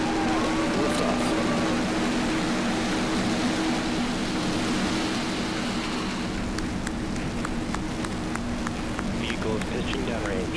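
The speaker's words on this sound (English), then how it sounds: "Liftoff." The dense, continuous roar of a SpaceX Falcon 9 rocket at liftoff on the PAZ mission fills the clip with a hissing rumble, while a voice talks over it.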